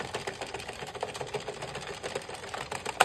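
An Addi 46-needle knitting machine is cranked through rows of a reversible beanie, giving a fairly faint, continuous rapid clicking and rattling of needles and carriage, close by with small irregular peaks and no talk.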